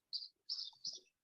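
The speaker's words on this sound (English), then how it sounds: "So you may hear birds chirping behind" Birds chirp outdoors in a few short, high, bright bursts separated by brief gaps, faint and somewhat distant, with no talking.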